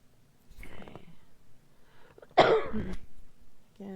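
A couple of short, harsh coughs close to the mic, separated by quiet pauses, with no talking.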